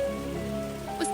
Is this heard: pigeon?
no